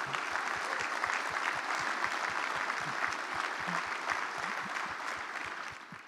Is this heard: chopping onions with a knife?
no